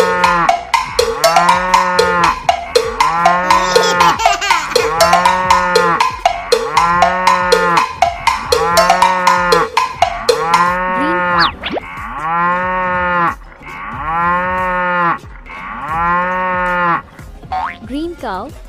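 A cartoon-style cow moos again and again in a steady, rhythmic pattern. The bright, bouncy moos come close and loud, then the later calls grow more spaced out.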